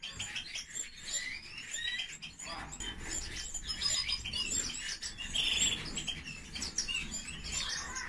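Canaries in a breeding room chirp and tweet continuously, with busy overlapping high calls and some wing flutter over a constant bird-room background.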